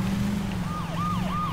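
Wailing police car siren in the Saints Row 2 video game, rising and falling in repeated sweeps over a steady engine hum, loud and close with no talk.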